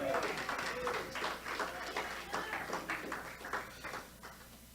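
A church congregation applauding together, a steady patter of many hands clapping for several seconds, moderately loud and filling the room.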